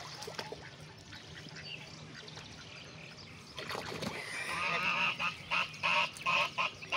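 Loud goose honks, a rapid series of repeated calls close by, following a stretch of splashing water and background noise where fish are swimming.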